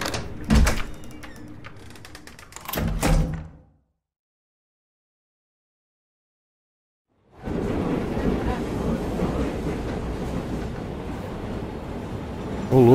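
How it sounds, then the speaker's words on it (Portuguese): Subway train ride in the video game Soma: rattling, clattering bursts give way to a gap of silence, then a steady rolling rumble of the moving train carries on loudly to the end. "Peguei metrô."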